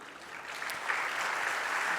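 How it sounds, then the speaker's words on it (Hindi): An audience claps in a hall, a steady wash of many hands applauding together, rising slightly and sustained throughout with no speech over it. "अभी ताली मत बजाओ, ताली अब बजाना जब मैं बोलूँगा।"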